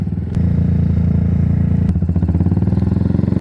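A motorcycle engine cranks and catches after a short click, then settles into a close, steady, rapidly pulsing idle putter that continues to the end, with no talking.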